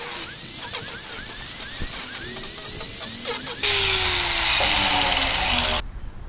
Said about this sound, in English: we're going to go ahead and grind them, add dips and valleys